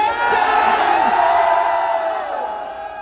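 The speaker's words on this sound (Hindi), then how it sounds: "क्योंकि बहुत ज्यादा क्राउड है, बहुत ही ज्यादा भाई" A huge crowd of fans at a packed meet-up for a YouTuber in Gurgaon keeps up a loud, continuous roar of cheering, whooping and shouting from start to end, easing slightly toward the close.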